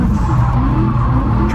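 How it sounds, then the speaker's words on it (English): A car drifting through a corner with its tires skidding, the engine roaring loud and close in a short continuous burst as the rear slides. "I'm gonna drift to that corner"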